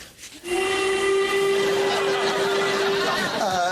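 A steam train whistle sounds one long, loud, steady tone for about two and a half seconds, over background rumble.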